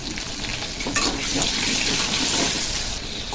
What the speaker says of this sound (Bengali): তেলটা গরম হয়ে গেছে আলুগুলোকে ভেজে নেবো